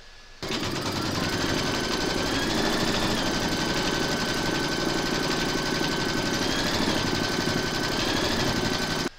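An embroidery machine stitches a round on a hooped quilted placemat with a turkey appliqué, a loud, continuous rapid mechanical whir and needle chatter that starts abruptly and runs steadily until it stops at the very end.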